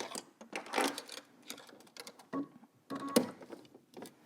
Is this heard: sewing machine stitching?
yes